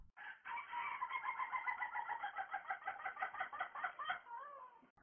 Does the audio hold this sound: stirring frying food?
no